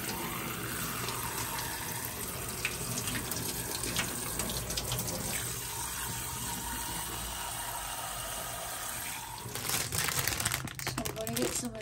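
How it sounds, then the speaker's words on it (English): Cold tap water running steadily into a kitchen sink as noodles are rinsed in a tiny officetel kitchen, a continuous close hiss and splash with brief crinkling and louder splashing near the end. "You want to rinse the noodles in cold water."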